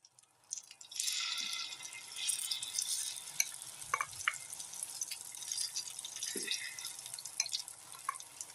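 Appe batter poured into an oiled appe pan, soft sizzling and dripping that starts after a moment and carries on at moderate volume, with small clinks of the pan and spoon.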